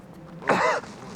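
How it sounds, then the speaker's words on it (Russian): A single harsh cough, close and loud, standing alone with no talking around it. "А давно вы так кашляете?"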